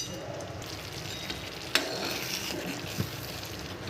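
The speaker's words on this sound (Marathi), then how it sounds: "आपण काजू बदाम हे तळलेले टाकूया आणि थोडीशी विलायची टाकायची। 1-2 मिनिट आणखी शिजू द्यायचं आहे।" A steady sizzle with occasional sharp clinks of a spoon against the pot as sabudana kheer with fried cashews, almonds and cardamom cooks, heard close and alone.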